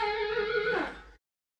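A single electric guitar lick: a sustained high note bends upward, then a short descending swoop before it cuts off abruptly.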